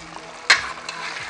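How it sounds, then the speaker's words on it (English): Stew frying in a pan, a steady soft sizzle with one sharp scrape or clink of a utensil against the pan, close and moderate in level. "my stew has been frying like 5 minutes now"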